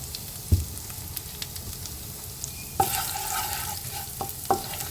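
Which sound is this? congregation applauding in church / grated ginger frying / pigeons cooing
grated ginger frying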